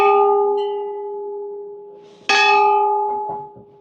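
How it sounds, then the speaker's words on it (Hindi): A large bell at the main gate of Baba Bhairavnath temple in Kedarnath rings out twice, each strike leaving a long, clear metallic tone that slowly decays, heard close and alone. "मुख्य दरवाजे पर एक बड़ा सा घंटा है"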